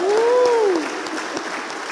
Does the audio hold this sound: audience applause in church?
yes